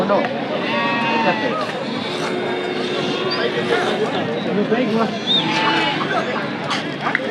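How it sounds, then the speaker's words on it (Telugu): Goats bleating at a crowded sheep and goat market in Angallu, Annamayya district, Andhra Pradesh, several animals calling repeatedly at varying distances over a steady murmur of people talking. "అన్నీ మేకలే కదా ఇది అన్నీ మేకలే"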